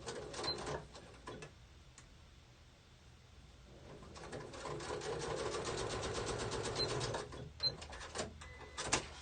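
Sewing machine stitching a mesh pencil pouch closed, running in fast mechanical bursts with a short pause between runs, close and moderately loud with no talking.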